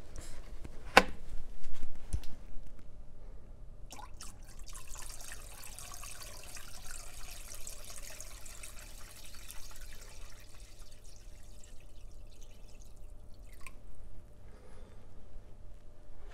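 Vinegar poured from a jug into a container of tap water used to soak rusty dumbbells, a faint steady trickle and gurgle lasting over ten seconds after a few knocks at the start.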